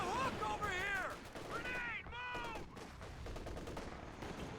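Rapid bursts of gunfire from a multiplayer shooter video game battle over capture points, dense and continuous across the stretch, with a voice talking over the shots.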